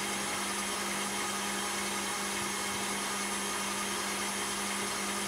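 An electric mixer whips meringue with cornstarch added, giving a loud, unbroken motor whir with a steady pitch and no pauses, with no one speaking.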